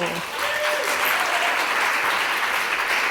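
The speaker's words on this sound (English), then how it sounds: "Give her a huge round of applause" Steady audience applause for a speaker at a talk event, a continuous wash of clapping with a faint voice or two mixed in underneath.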